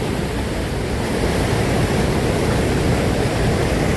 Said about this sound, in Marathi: हे पाण्याचा धबधबा आवाज किती मोठ्या प्रमाणात येत आहे